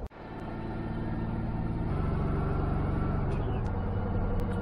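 A high-mileage OBS Ford truck cruises on a highway through rural Kansas, with steady engine drone and road rumble filling the cab, loud and continuous after a brief thump at the start.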